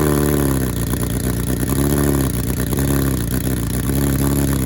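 A 2021 Kawasaki ZX10R motorcycle engine running loud and steady on its stock tune, a dense, close rumble with slight revs rising and falling throughout.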